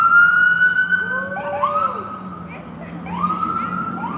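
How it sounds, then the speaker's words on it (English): An ambulance siren wails loudly nearby at a street protest outside an ICE facility in Portland, its rising and falling tone sweeping over traffic noise as people talk. "why are you telling people to run from an ambulance?"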